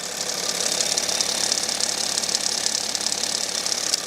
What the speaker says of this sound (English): you may or may not be able to hear a metallic rattle, and I'm pretty sure it is actually the alternator